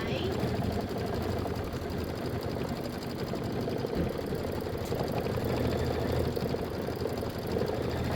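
An embroidery machine quilts the borders of a pillow with a steady, fast mechanical stitching hum that runs continuously throughout, with a voice talking over it.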